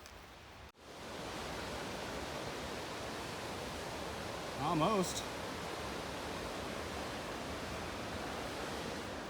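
The Smoky River rushes near a bridge on a backcountry trail, a constant broad roar like a distant waterfall, with a single brief spoken word partway through.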